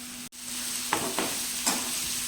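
Kashmiri red chili and black pepper frying in a pan for Hakka noodles, a constant close sizzle broken by a few brief scraping stirs of a spatula, with no talking.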